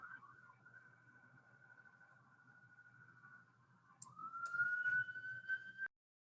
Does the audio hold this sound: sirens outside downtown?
yes